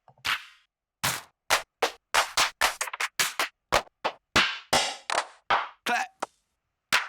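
A series of clap samples auditioned one after another in music production software, about fifteen sharp, dry percussive hits of varying length and tone, some with short tails, played in an uneven sequence with brief gaps.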